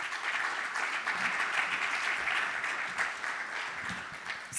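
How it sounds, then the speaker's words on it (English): An indoor audience at a business breakfast briefing applauds, a dense, even wash of clapping that holds steady for several seconds without voices over it. "Let's all welcome them with a big applause."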